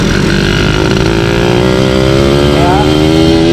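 A motorcycle fitted with a large carburetor revs hard at mid throttle, a loud, close, continuous engine howl whose pitch climbs steadily, with a voice speaking over it.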